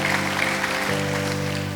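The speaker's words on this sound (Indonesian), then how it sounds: "And we just give our hands to the Lord by clapping our hands." A church congregation claps steadily for the Lord, a continuous patter of applause over a sustained organ-like musical drone.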